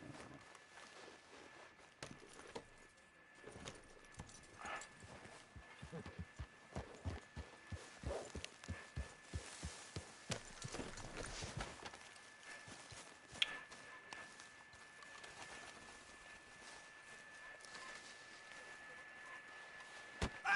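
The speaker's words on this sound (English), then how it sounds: "My horse." Horse hooves from Red Dead Redemption 2 clip-clop at a steady walking pace, quiet and rhythmic over a faint background hum, with a few louder knocks.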